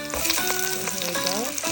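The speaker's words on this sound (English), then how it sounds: "Let's brown the potatoes and the carrots first, because it tastes different when you brown it" Potatoes and carrots browning in a pan before braising pork ribs, a close, loud, continuous sizzle with rattling, tonal scraping as the pieces are moved around.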